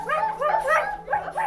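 Guard dogs barking as a story sound effect, a run of about five quick, high yappy barks, close and fairly loud, with no other sounds.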